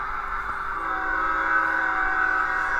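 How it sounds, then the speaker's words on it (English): A train rumbles past with a steady, sustained tonal roar, loud and continuous throughout, with no voices. "I can hear a train, okay?"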